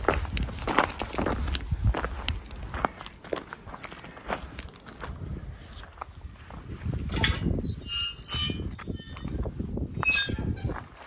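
Footsteps crunch down a steep gravel path near Castle Dinas Bran in Llangollen, a steady close stream of scuffing steps with some high squeaky chirps toward the end.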